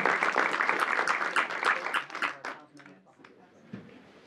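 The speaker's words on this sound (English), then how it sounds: "Let's give them an applause." At a city council meeting a room full of people bursts into loud applause that holds briefly, then trails off into a few scattered claps and murmuring voices.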